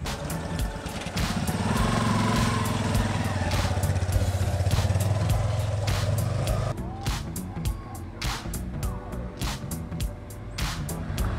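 A Yamaha Fazer 250 motorcycle's engine roars steadily during a braking test from 40 km/h, then drops off sharply partway through, followed by a series of short clicks and ticks as the bike comes to a stop.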